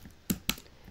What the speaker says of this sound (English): To do that, I will type table